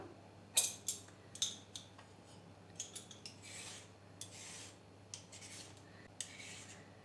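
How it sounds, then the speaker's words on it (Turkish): Carrot skins being peeled for a carrot cezerye, a series of faint, scraping strokes in an irregular rhythm, close and quiet with no talk. "Şimdi bu kabuklarını soyacağım"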